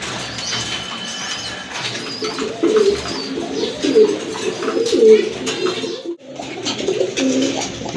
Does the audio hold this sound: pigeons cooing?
yes